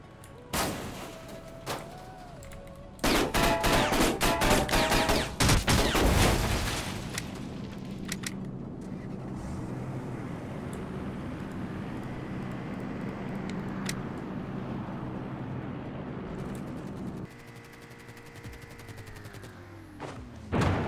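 Gunfire in a shooting video game, a burst of rapid heavy shots that crash loudly for a few seconds, then a rumbling backdrop of engine and ambient noise with occasional sharp reports.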